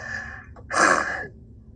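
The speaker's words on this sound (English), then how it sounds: "You just snorted." A person gives one sharp, loud nasal snort up close, a brief burst of breath after a short faint intake, with no talking.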